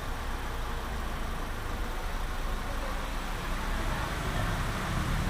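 A vehicle engine idling for vibration analysis: a steady, even broadband rumble throughout, with no rise or fall in pitch.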